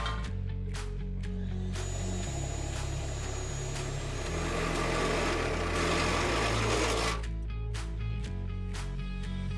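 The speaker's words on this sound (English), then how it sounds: "Drill in the hole." A power drill whirs loudly and continuously for several seconds as it bores a hole for a carriage bolt in a raised garden bed extension, with lower motor hum and short bursts before and after.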